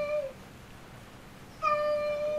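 A house cat meows twice, a short clear cry followed after a pause by a longer, louder drawn-out meow, close by in a quiet room.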